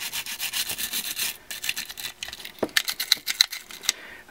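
A small brush scrubbing inside a Glock pistol frame to clear residue from the slide rails and mag well, with quick close rasping strokes in uneven bursts.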